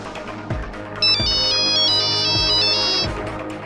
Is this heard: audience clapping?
no